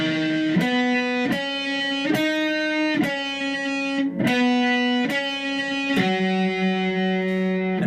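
An electric guitar plays the main riff of a song in E, with a distorted, effected tone and sharp chord stabs repeated in a steady rhythm, loud and close with no talk.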